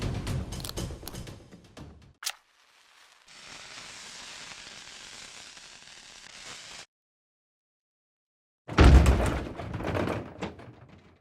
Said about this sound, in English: The racket from the cannon was more devastating than the shell itself.